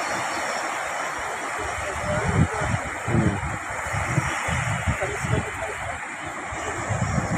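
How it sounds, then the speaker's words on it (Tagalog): Ocean surf rolling in at a beach in windy amihan-season conditions, with a steady broadband wash of waves and wind buffeting the microphone, low rumbling swells rising and falling throughout. "Medyo malaki yung alon."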